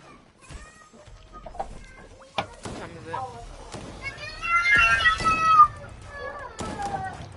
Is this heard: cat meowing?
yes